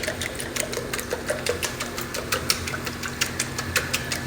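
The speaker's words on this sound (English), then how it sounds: "Just whisking our eggs here." Eggs are whisked for a breakfast tortilla, giving a fast, even run of light tapping clicks from the whisk against the bowl, close and moderately quiet over a faint background hum.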